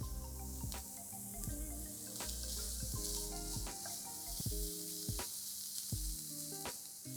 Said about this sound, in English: I'm going to add 1 chopped onion and saute this, 3 cloves of sliced garlic.